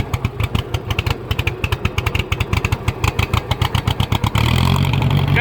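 A 2010 John Deere engine chugging in fast, even pulses up close, then smoothing into a continuous loud running drone near the end.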